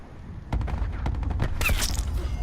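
Rapid sprayed gunfire in Call of Duty: Black Ops 4 prop hunt, a dense burst of loud, close shots fired continuously for about two seconds after a brief quiet start.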